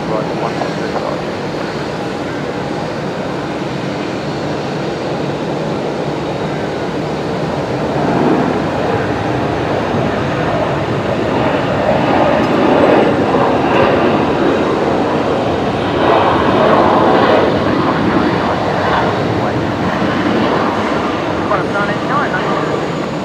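A Qantas jet airliner roars on its night takeoff roll from runway 01 right at Brisbane Airport, a loud continuous rumble that swells gradually toward the end, heard from nearby.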